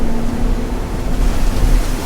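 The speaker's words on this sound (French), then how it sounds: "il y a du vent en tout cas" Strong wind above 30 knots roars across a boat at sea as a steady, dense broadband rush with a low rumble and a faint tonal hum, continuous and close, with no voices.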